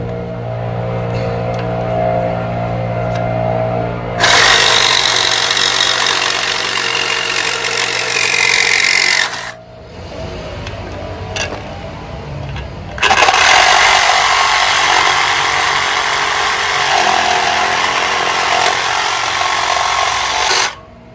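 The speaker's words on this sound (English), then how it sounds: "This is a Sawzall, a heavy duty Milwaukee. Got a torch blade with a metal bit on it." A heavy duty Milwaukee Sawzall with a torch blade cuts through a railing post: two long, loud, close bursts of harsh buzzing reciprocating saw noise, separated by a brief pause, with a lower rumbling idle-like sound before and between.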